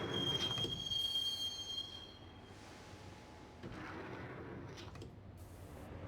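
A subway train rolls along the rails in the Max Payne video game, with a steady rumbling ride and a high metallic wheel squeal at the start that fades into continuous clatter.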